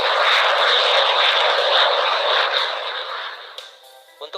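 A loud, roaring F-86 Sabre jet fighter passes close by with a broad whooshing engine noise that gradually fades as it moves away.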